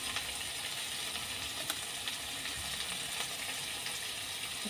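Whole cumin seeds and dried chillies sizzle and crackle in hot mustard oil, a soft, even frying hiss with occasional small pops running throughout.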